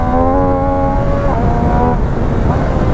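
An MV Agusta Brutale 800 RR motorcycle with its stock exhaust and the catalyst removed, the engine droning close and loud with rising and falling pitch as it revs.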